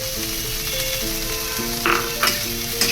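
Radish and fish curry fries noisily in a pan in a loud, steady sizzle, and a few sharp clinks and scrapes near the end come from stirring.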